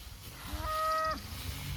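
A single cow moos once in tall pasture grass, a moderately distant, medium-pitched bellow lasting about half a second over a quiet outdoor background.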